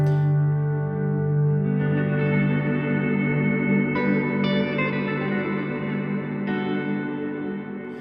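Electric guitar run through a Line 6 Helix with delay and reverb, sustained ambient chords swelling and ringing with long trailing echoes, a few new notes blooming over the wash before it slowly fades.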